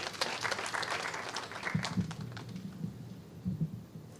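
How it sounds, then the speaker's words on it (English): An audience at the launch of a national budget month welcomes a speaker with applause. The clapping is fairly quiet and fades out, leaving a few scattered claps and low noise. "Let's welcome him with a round of applause,"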